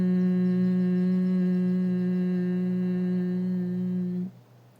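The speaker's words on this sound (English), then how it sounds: "when we exhale through the nose and we hum while we exhale" A steady, resonant human hum carried on a long nasal exhale in Brahmari honeybee breathing, close and even for about four seconds before cutting off abruptly into quiet breath noise.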